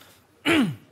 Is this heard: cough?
yes